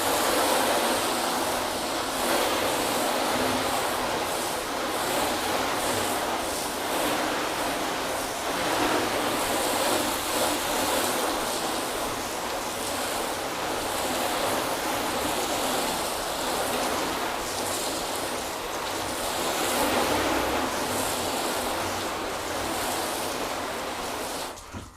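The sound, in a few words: water rinsing a car panel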